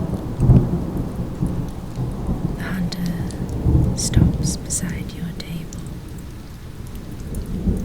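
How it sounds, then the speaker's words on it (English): Low rolling thunder rumbles beneath steady rain in a fantasy tabletop roleplay ASMR setting, with soft swells of booming, while a voice whispers narration over it. "Thunder cracks."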